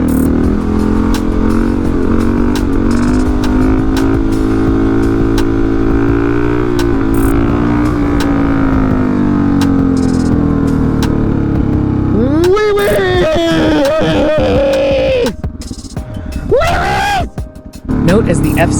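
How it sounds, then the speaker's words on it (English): A Yamaha FZ motorcycle revs hard during a long wheelie, holding a loud, sustained engine drone that rises and falls in pitch. Near the end it breaks into sharp rev surges and throttle blips before it briefly drops away. "Note as the FZ Wheelie Guy gets ever close to scraping."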